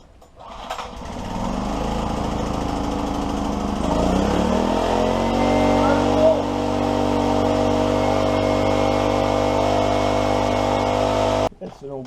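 A 1991 Honda EX1000 generator, freshly tuned, starts with the choke set and settles into a steady, loud, buzzing engine drone for about ten seconds before cutting off abruptly.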